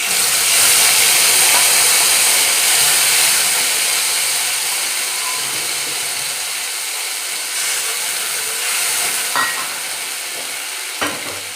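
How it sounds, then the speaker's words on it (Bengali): Black cumin seeds tempering in hot oil for a Bengali hilsa fish curry give a steady, close sizzle and frying hiss that holds through the whole stretch. It eases off slightly over time, with a couple of faint utensil clicks near the end. "তেল দিয়ে দিচ্ছি এর উপর কালো জিরা ফোড়ন"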